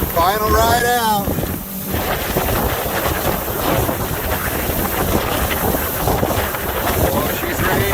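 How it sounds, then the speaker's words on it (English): Strong wind roars over a lake in Iowa as a boat rides out, loud, continuous buffeting of the microphone mixed with water and engine rumble, with a brief voice-like tone near the start. "she's rainy and she's windy"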